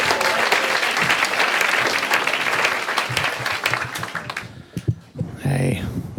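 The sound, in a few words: audience applause for Ryan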